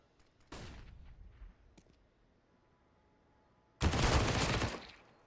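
MP9 submachine gun fire in a Counter-Strike match, two sharp bursts of rapid shots, the first short and the second louder and longer, with faint clicks between them and no talk.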